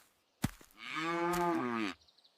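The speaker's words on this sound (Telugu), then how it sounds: "రామయ్యకు గౌరి అనే మంచి ఆవు ఉండేది." A single cow on a farm lets out one long, steady moo with a rich, even tone, close and clear against a quiet background after a brief knock.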